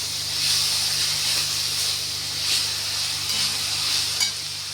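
Chivda vegetable being stirred and mixed in a hot pan, a steady close sizzle with soft rhythmic swishes and scrapes of the spoon rising and falling every second or so, with no talking.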